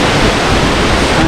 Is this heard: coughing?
no